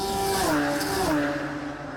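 Radical race cars at Snetterton surge toward the timing line, engines screaming at high revs with a falling pitch as they pass close, loud and continuous before easing slightly.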